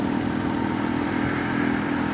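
A 1972 Vespa Super motor scooter being ridden: the small engine drones with a steady, buzzing putter at an even pace, close and continuous, with no talk over it.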